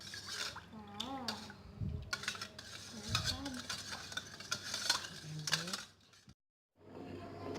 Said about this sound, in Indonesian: Setelah kompornya dinyalakan, aduk terus, jangan sampai santannya pecah.